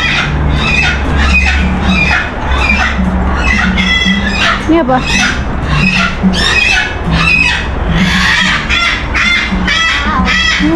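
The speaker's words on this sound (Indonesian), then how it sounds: "Di sini ada banyak burung." Birds call loudly and repeatedly at an aviary bird park in Bintaro, Indonesia, with parrots and cockatoos among them; squawks and honking cries come through over a steady background hum while people talk nearby.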